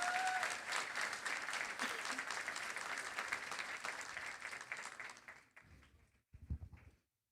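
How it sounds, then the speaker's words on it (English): Audience at a high school graduation ceremony applauds with steady clapping that slowly thins out, then a short final burst of claps before it stops. "Let's give her another round of applause."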